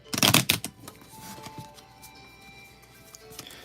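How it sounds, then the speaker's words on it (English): Pokemon trading cards being shuffled by hand, a close burst of riffling flutter at the start followed by softer scattered card flicks, with faint music in the background. "So we're just trying to get these pretty well shuffled up."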